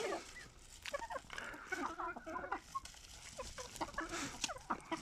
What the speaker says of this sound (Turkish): Biz de e, o mamayı tavuklara verdik.